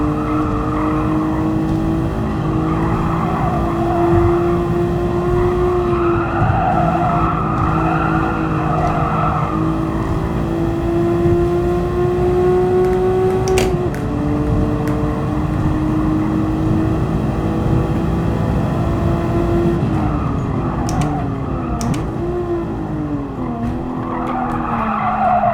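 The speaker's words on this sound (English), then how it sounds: "It's a really controllable car" Race car in Gran Turismo Sport, a steady high engine drone with shifting pitch and long tire squeals and skids through corners, loud and continuous throughout.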